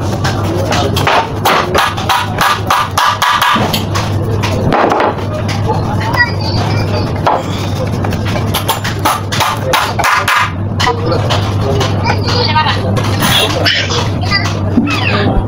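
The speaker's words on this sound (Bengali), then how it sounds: "আমরা মূলত এগুলো বাটাল দিয়ে খোদাই করে ডিজাইন করি" Designs are carved into wooden furniture with a chisel, struck in rapid, sharp, loud knocks that come in irregular bursts with short gaps, while people talk throughout.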